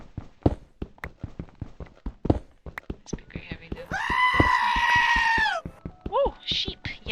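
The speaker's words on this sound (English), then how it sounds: "Sheep!" A sheep in a Minecraft-style game gives a long, loud wavering bleat that rises out of a run of sharp rhythmic clicks and taps, then breaks into a few shorter cries at the end.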